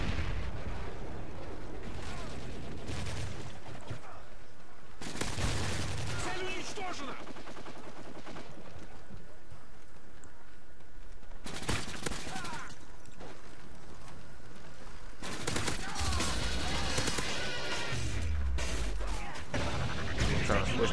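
Gunfire rattles through a Call of Duty MW3 match, with several loud bursts and single shots, including a pistol, set against constant game sounds and a player talking.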